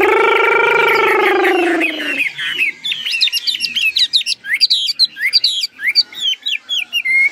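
A hand-raised pet songbird, released and perched on the hand, sings loudly and close: a long sustained harmonic call gives way to a rapid run of varied chirps and whistled phrases with no talking.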